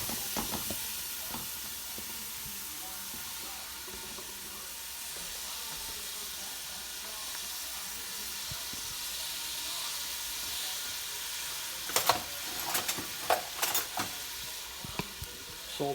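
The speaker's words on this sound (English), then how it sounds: "Put the onions in for the sauce." Onions sauteing in a pan for sauce: a steady, fairly quiet sizzle and hiss throughout, with a cluster of sharp utensil clacks and stirring knocks near the end.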